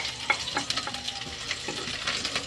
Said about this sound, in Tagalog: I-brown lang natin ng konti yung garlic.